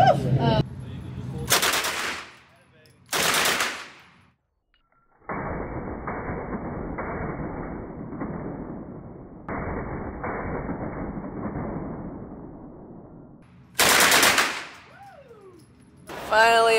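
Gunshots ring out at an indoor shooting range: a couple of sharp loud reports near the start, then a steady stretch of muffled rumbling fire, followed by more loud nearby shots near the end.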